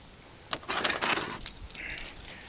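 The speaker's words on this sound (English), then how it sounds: "where's the flipping keys of the car now?" Car keys jangling close by, a burst of bright metallic rattling and clinks that starts after a quiet half second and keeps shaking in uneven bursts, with no talk.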